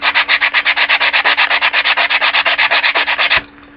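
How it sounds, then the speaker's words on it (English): Sandpaper rubbed back and forth over a piece of glass in quick, even strokes, about two dozen rasping passes in a steady rhythm, loud and close, stopping abruptly near the end. "I can sand on it with sandpaper."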